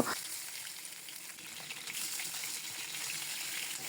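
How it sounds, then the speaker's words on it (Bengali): Fish tails frying in hot mustard oil in a frying pan give a steady, close, crackling sizzle that swells slightly midway and keeps going without a break. "তেলগুলো গরম হয়ে এলে মাছের লেজগুলো দিয়ে দিচ্ছি আর খুব সুন্দর করে মুচমুচে করে এই লেজগুলোকে ভেজে নিব।"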